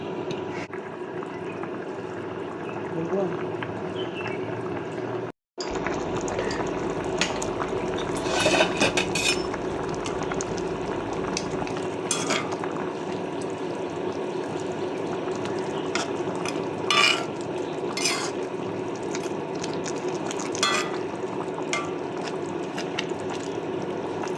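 Rohu fish curry with drumstick and potato simmers under a lid, giving a steady low bubbling hiss broken by a few light clinks of utensils and pot, moderately close and without talk.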